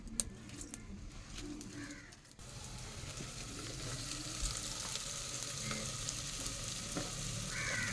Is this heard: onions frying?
yes